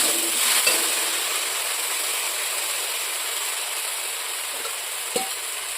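A paste of cashews, melon seeds and green chilies frying gently in a pan over low heat, giving a steady soft hiss throughout with a couple of faint clicks from a spoon or pan, no talking.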